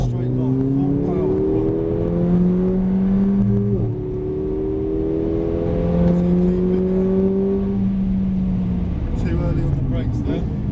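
A car accelerates at full power on a track, its engine drone rising steadily in pitch over several seconds with a brief drop between gears, while an instructor and driver talk over it.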